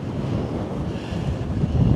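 Strong wind in Blackpool buffets the microphone in a steady low roar, gusting slightly louder toward the end, with no voices.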